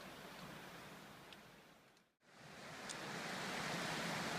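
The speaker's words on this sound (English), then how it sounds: "Just crossing the creek now." A mountain creek rushes steadily as it is crossed, a broad, close hiss of flowing water that briefly cuts out midway, then returns without talk.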